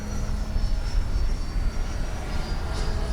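An FMS Rafale 80mm electric ducted-fan RC jet passes overhead, its steady whooshing whine filling the air at moderate distance with a faint high tone, no voices present.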